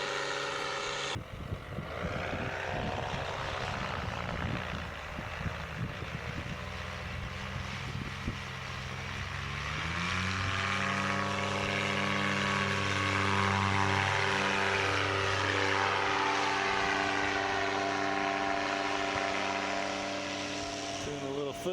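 A propeller airplane roars steadily and climbs in pitch as its engine runs up, a loud continuous drone that rises and holds throughout.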